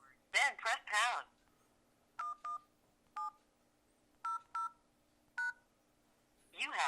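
Several telephone keypad tones beep in short separate bursts while checking voicemail, one after another with gaps between them, and brief speech comes just before and after the tones.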